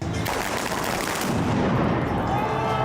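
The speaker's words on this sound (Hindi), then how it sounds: "बार्सिलोना की सड़कों पर जमकर पटाखे फोड़े" Firecrackers set off in the streets of Barcelona during a protest by health workers, a dense crackling burst of rapid pops, loud and sustained, with crowd noise underneath.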